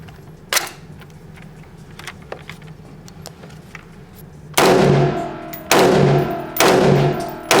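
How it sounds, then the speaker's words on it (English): Steyr AUG A3 M1 rifle firing its first rounds: three loud, sharp shots spaced about a second apart, each with a ringing tail, following a few seconds of quiet outdoor ambience with faint clicks. "we're about to try out this AUG. See how she shoots."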